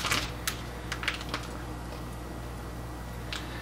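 Scissors snip the corner off a Ziploc bag, giving a few sharp close clicks and crinkles of plastic before quiet room tone.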